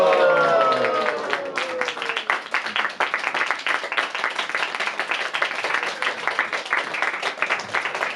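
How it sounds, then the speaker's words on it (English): Temple congregation at an ISKCON Sunday feast program in Ottawa gives a warm round of hand clapping, dense and close, after a brief voice at the start, continuing steadily throughout. "Let's give him a warm round of applause and a Haribol."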